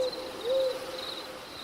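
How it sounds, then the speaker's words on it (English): A single owl gives one low, drawn-out hoot against a faint, humid tropical rainforest ambience with a thin insect-like whine in the background. "with a single owl hooting"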